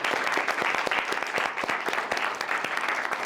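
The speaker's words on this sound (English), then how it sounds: "Can we get a round of applause for our panel," Steady applause from an audience for a real estate market panel, dense and fairly loud with many overlapping claps throughout a short burst.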